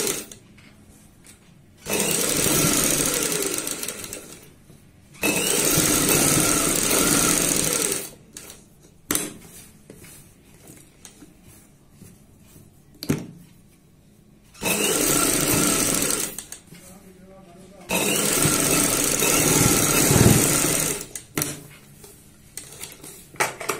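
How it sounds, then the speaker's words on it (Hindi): A sewing machine stitches a kameez front onto buckram in four sustained runs of rapid, steady needle chatter, each several seconds long, broken by quieter pauses with cloth handling and small clicks. "इसको अटैच कर लेते हैं बुकरम के साथ साथ सिलाई लगाते हुए"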